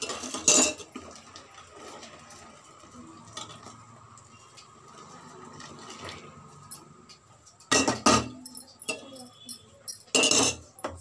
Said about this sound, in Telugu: సగ్గుబియ్యం కలిపేసుకొని ఇట్లా తిప్పుకోవాలి.